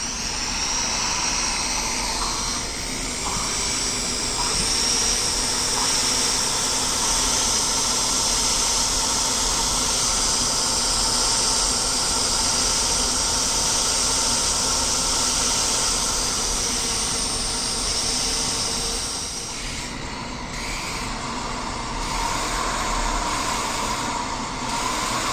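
A drill lapping the exhaust valves into their seats on an Audi A4 2.0 TFSI head: a steady, continuous whirring grind with a hissy edge that runs nearly unbroken, easing briefly near the end, with no talk.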